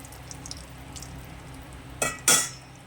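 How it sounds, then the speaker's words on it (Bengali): Oil, salt and turmeric stirred in a wok over a quiet background, ending in two sharp, close metallic scrapes of the spatula against the pan. "কড়াইয়ের মধ্যে সাদা তেল দিয়ে দিলাম, দিয়ে আমি লবণ একটু, হলুদ একটু দিয়ে ভালো করে নাড়াচাড়া করে নিলাম"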